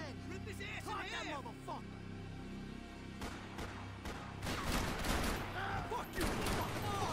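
Bursts of gunfire in the video game Max Payne 3, a rapid fusillade of shots that grows denser and louder in the second half, with a man swearing over the shooting.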